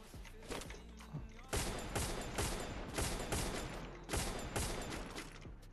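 Rapid automatic gunfire in a Free Fire battle royale match, repeated loud bursts of shots in quick rhythm, fairly close, with voices talking faintly underneath.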